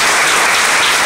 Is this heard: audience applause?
yes